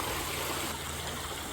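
Creek water flows steadily over a drop-off at a gold prospecting spot, a continuous close rushing and trickling wash with no voices.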